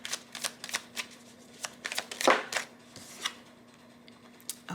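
Tarot cards are shuffled by hand in quick, irregular riffles and slaps, close and crisp over a faint steady hum, with a brief louder flurry near the middle and no talking.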